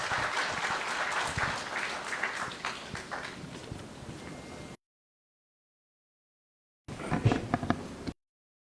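Applause from an audience at a government solar self-employment scheme event welcomes an official onto the stage; steady crowd clapping runs for several seconds, fades, then a brief louder burst of clapping follows after a pause.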